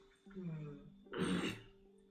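A person clears their throat, then lets out a single harsh cough, close to the listener.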